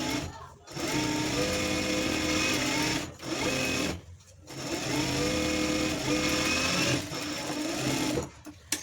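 Electric sewing machine stitching a blouse lining, running in several long continuous bursts of rapid whirring stitches separated by brief pauses, close and loud.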